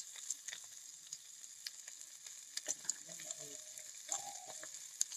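Tomato with salt, turmeric and chilli powder sautéing in a pan for pea ghugni, a quiet steady sizzle broken by a few light stirring clicks and scrapes, with no voices.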